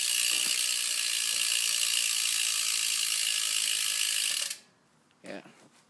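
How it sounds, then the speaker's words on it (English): A BMX bike's rear freewheel, on a custom build with People Excalibur forks, ratchets in a fast, steady buzzing click for about four and a half seconds, close and loud, then cuts off abruptly to near silence. "My back wheel sounds really nice."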